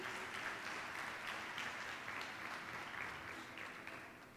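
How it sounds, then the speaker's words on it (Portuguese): A church congregation applauds at a communion service: a faint, dense, continuous patter of clapping that holds steady and then tapers slightly at the end. "Você pode dar um aplauso ao Senhor pela palavra dele?"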